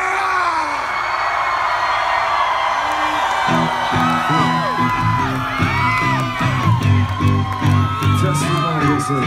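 A live concert crowd at a reggae festival at Lake Tahoe screams, whoops and cheers loudly throughout, with music starting underneath partway in and shouting voices mixed into the roar.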